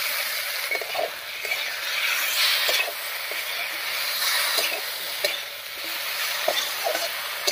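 Spiced cumin and chilli paste stirred and frying in a pan with raw green banana and potato, a steady close sizzle broken by scraping stirs of the spatula throughout, with no voices.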